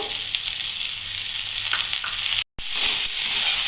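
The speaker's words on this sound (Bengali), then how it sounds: "পেঁয়াজ দিয়ে দিয়েছি এবার পেঁয়াজ কুন্দ্রি ভালো করে ভেজে নেবো" Ivy gourd (kundri) and chopped onion frying in a pan, a steady close sizzle with brief stirring and a short cut of silence partway.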